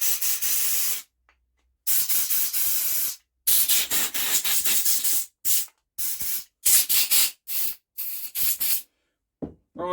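Compressed air blows in repeated loud hissing bursts through the old tubes of a Honda GX engine, with short gaps of silence between blasts that vary in length.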